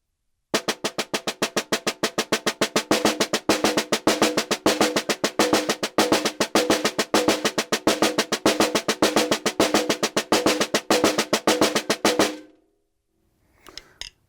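A snare drum tap accent exercise at a faster tempo, a dense, rapid, unbroken stream of crisp strokes with accents woven in, lasting about twelve seconds before stopping, followed by a faint brief rustle.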